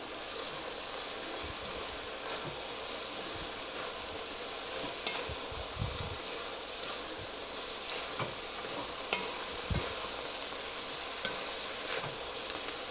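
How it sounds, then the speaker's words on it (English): American chop suey sizzles steadily in a frying pan while a spoon stirs it, with scraping and clinking bursts over the continuous fry hiss; no one speaks. "Stir it up."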